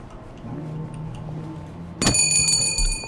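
A doorbell rings in the video game We Happy Few, a bright metallic chime that strikes once partway through and lingers with ringing overtones above a low background hum.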